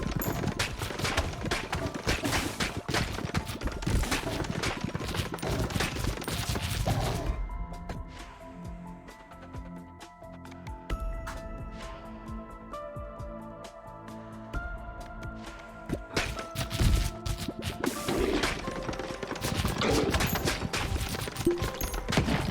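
Dynamite explosions in the video game Ball x Pit: rapid, dense volleys of popping blasts and impacts. They come in two loud stretches with a calmer tonal musical passage between them.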